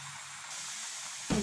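Hot oil gives a soft, steady hiss before murukku dough drops in, setting off a short, louder burst of bubbling sizzle at the very end.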